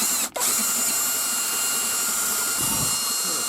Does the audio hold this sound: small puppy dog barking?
no